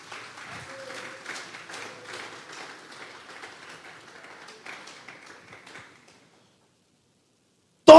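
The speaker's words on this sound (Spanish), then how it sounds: "Denle un fuerte aplauso pues al Señor." A congregation at a Bible study service applauds, fairly light and scattered clapping that thins out and stops, followed by a brief silence and then an abrupt loud burst at the very end.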